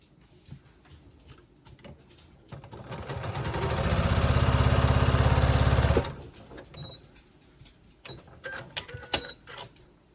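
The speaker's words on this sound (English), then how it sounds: "So I'll take that square and this one, and I'll sew these two together." Sewing machine joining two fabric squares for a scrappy quilt block, ramping up over a second into a steady fast stitching whir for a few seconds, then stopping abruptly, with light fabric handling and clicks around it.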